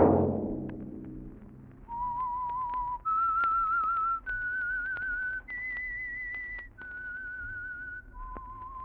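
A clear whistled tune of several sustained notes stepping up and down, each held about a second, alone against quiet background hiss.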